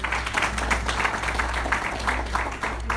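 A church congregation claps in a lively burst of applause, with individual claps audible in a loose rhythm and a constant low hum from the room underneath.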